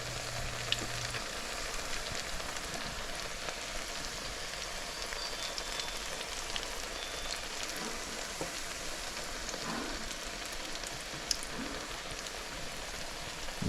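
Cabbage fritters sizzle in oil in a frying pan, a steady crackling hiss that stays even and close throughout with only occasional small pops.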